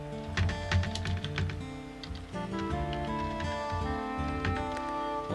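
A password being typed on a computer keyboard: quick, uneven key clicks with brief pauses, close by, under steady background music.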